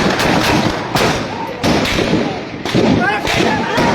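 Heavy gunfire in Gilgit city: sharp, loud bangs crack out roughly every second over a constant rumbling din, each burst echoing broadly before the next.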